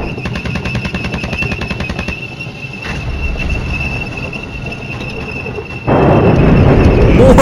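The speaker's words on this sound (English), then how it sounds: "There we go, more gunfire." Rapid rattling gunfire from the Flashpoint Campaigns wargame, a steady dense stream of automatic bursts over a constant tonal hum, growing louder and rougher in the final seconds.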